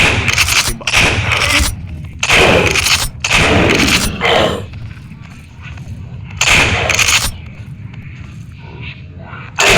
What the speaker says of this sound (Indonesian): kita menembaki monster-monster ini ya